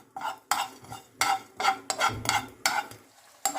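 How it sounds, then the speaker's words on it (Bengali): Whole cumin, a bay leaf, cardamom, cinnamon and cloves are dry-roasted in a pan, stirred in a series of short, crisp scraping strokes that come in uneven bursts with quiet gaps between them. "মশলাগুলো শুকনো ভেজে নিচ্ছি।"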